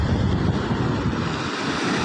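Sea waves and wind at the shore make a steady, loud broadband roar with heavy wind buffeting on the microphone throughout, with no voices.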